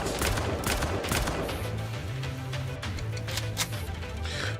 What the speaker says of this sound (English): Only gunfire spews from the commander's Makarov.